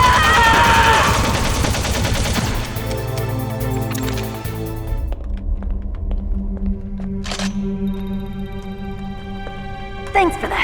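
Gunfire in a Metal Gear Solid cutscene, with a dense burst of shots at the start and a few isolated sharp cracks later, set against sustained musical tones and scattered effects.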